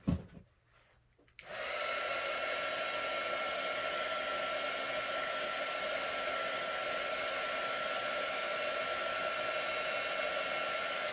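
A hair dryer switches on after a brief quiet moment to dry paint, then runs as a loud steady whirring blow that continues unbroken to the end, with no one speaking.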